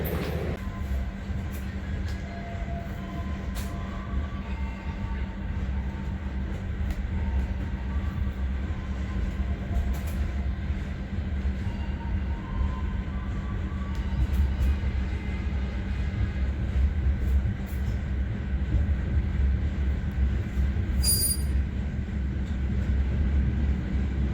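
Kahurip passenger train rolling along noisy tracks on the way to Blitar station, Indonesia, a steady loud rumble with constant low drone and rattling throughout, no one speaking.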